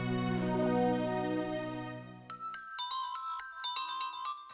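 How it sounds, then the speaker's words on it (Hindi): A phone rings in a Hindi horror comedy film, first as a sustained rich electronic tone and then as a string of bright, repeated chiming beeps in an even rhythm, fairly quiet and with no talk over it. "रिंग बज रही"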